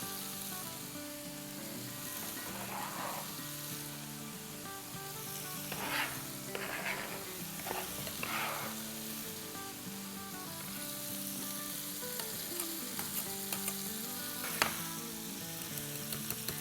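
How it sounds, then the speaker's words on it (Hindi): Eggplant being stirred into a yogurt dip for Lebanese moutabel, with soft wet mixing and scraping in a bowl, a few louder spoon clinks and squelches over a steady sizzling background. "और अब अच्छे से इसे मिक्स कर देंगे।"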